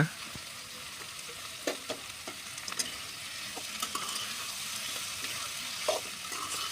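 Onions frying in a pan for a simple village-style stir-fry with curry leaves and dried red chillies, a quiet continuous sizzle with occasional light scraping clicks from stirring.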